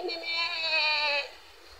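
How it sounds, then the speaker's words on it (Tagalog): A goat bleats once beside the sea, a single drawn-out, wavering call lasting about a second, close and fairly clear, with a faint windy outdoor background after it ends. "Ayan yung mga kambing."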